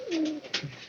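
Pet pigeons giving a short, soft coo close by, a single low throaty call with a faint rustle after it.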